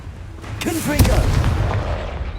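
Confringo fire spell blast in Hogwarts Legacy, a sharp booming impact followed by a rumbling tail, with a voice shouting over the moment the spell hits.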